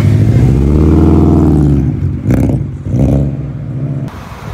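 A rare Subaru car engine revs loudly and close for a couple of seconds, then drops and gives two shorter throttle blips before settling to a lower idle.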